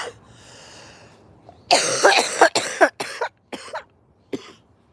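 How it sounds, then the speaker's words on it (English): A person coughs hard in a series of harsh, explosive bursts, several close together and then a few spaced ones trailing off, loud and near with no talk over them. "excuse me while I coughed my freaking lungs up"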